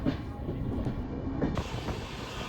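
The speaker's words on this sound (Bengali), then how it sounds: "নির্দিষ্ট সময় হাওড়া স্টেশন থেকে ট্রেন ছেড়ে দিল।" Puri Superfast Express pulling out of Howrah station, a steady, fairly loud low rolling rumble of wheels and carriages that continues without pause, with a brighter hiss joining in the second half.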